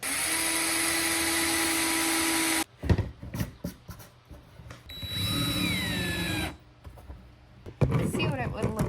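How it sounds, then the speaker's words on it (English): A power drill with a bit drilling into hardboard whines steadily for a few seconds, stops, then gives short bursts of higher-pitched drilling with clattering handling noises in between. "I'm going to see what happens if I try to make a little indent in this hardboard."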